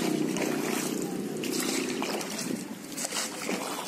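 Small pedal boat or rowboat carrying two people moves across the backwater at Muttukadu boat house, with continuous close water trickling and lapping against the hull and steady splashing throughout, no talk.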